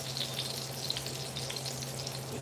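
Steady sizzling of food frying in hot oil, a continuous crackling hiss with small pops, close and fairly loud, no voices.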